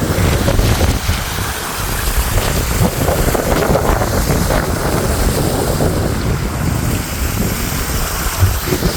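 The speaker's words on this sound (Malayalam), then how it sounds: "നല്ല കാറ്റുണ്ട്" Strong wind buffets the microphone at the top of Rajakkad Kuthungal waterfall near Munnar, a loud continuous roaring rush with gusty swells and no talking.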